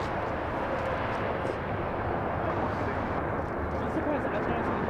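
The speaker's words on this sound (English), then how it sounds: "we have a JetBlue on short final to 26 left" A JetBlue Airbus A321-200 airliner landing on runway 26 left, heard as a loud, steady broadband jet roar that holds for the whole stretch without breaks, with no voices over it.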